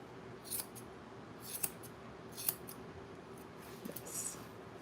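Scissors trimming a pregnant dog's fur during a grooming session, quiet crisp snips heard close at irregular intervals over a soft steady background hum, with no one talking.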